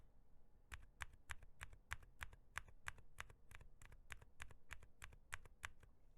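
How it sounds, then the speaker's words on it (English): Steady, even typing on a mechanical keyboard fitted with Gazzew silent tactile switches, roughly twenty soft, muted keystrokes in a regular rhythm at normal strength, close and quiet with no voice over it. "this is me typing at a roughly normal level of strength. Now comparing to the Gazzew"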